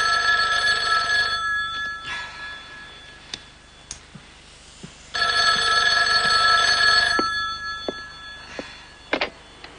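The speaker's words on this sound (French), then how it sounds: "Le téléphone sonne." A telephone bell rings in two long, loud, close bursts separated by a pause, with faint ticks and clicks between rings.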